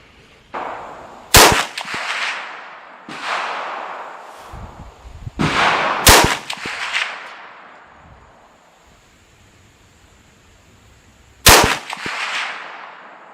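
Three sharp rifle shots from a 350 Legend rifle outdoors, spaced several seconds apart, each a loud crack followed by a fading echo, with quieter rumbles and handling noise between them.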